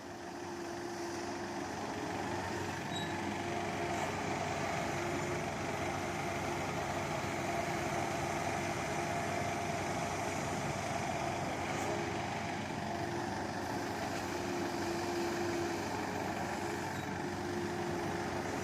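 A Kubota 8-ton excavator engine runs with a continuous, even mechanical drone, moderately loud and steady for the whole stretch, with no voices.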